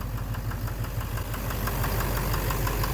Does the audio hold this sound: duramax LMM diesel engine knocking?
yes